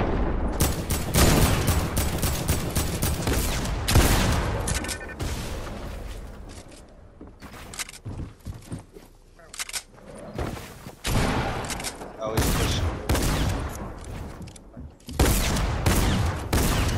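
Fortnite firefight near a cornfield, with loud clustered shots and bursts of gunfire separated by quieter stretches, close and punchy throughout.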